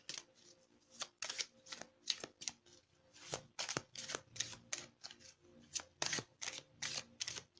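Tarot cards being shuffled by hand, heard up close but quietly: a long series of quick papery riffles and snaps in irregular bursts, with no voices.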